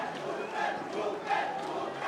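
A fight crowd roars and shouts encouragement at the end of a third round, a dense, fairly loud wash of cheering voices with a few sharper yells rising out of it, while a commentator talks over the noise.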